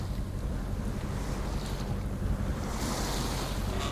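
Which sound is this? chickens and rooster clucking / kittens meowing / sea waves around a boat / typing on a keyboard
sea waves around a boat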